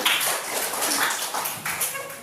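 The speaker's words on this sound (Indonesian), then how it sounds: "Tepuk tangan dulu." A group claps hands in a classroom lesson for children, a quick burst of sharp, overlapping slaps that runs for a couple of seconds at close range.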